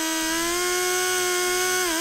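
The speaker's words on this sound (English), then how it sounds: "I've got a teeny tiny wire brush on my die grinder. I got it rotating so it's spinning all the shit out that way" A die grinder fitted with a tiny wire brush spins steadily, a loud, close, high-pitched whine holding a constant tone before dipping briefly near the end, while cleaning a motorbike part.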